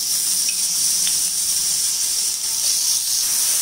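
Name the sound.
cumin seeds spluttering in hot oil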